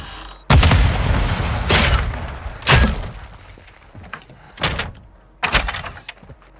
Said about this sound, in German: Werfe Betäubungsgranate.